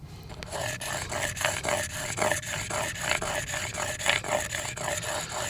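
Argillite stone being thinned for prehistoric-style jewelry, giving steady repeated rasping strokes in a regular rhythm, close and moderately loud, with no talking.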